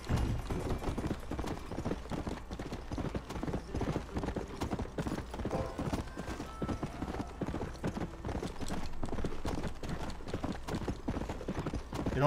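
Rapid, rhythmic hoofbeats of a galloping horse in Red Dead Redemption pound steadily for several seconds, close and continuous.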